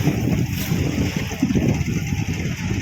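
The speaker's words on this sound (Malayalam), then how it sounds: "ഈ വള്ളം യമഹ ഓടിക്കണത് കേട്ടോ" A fishing boat out at sea driven by a Yamaha outboard motor, a steady loud low engine drone mixed with wind buffeting and the rush of water around the hull.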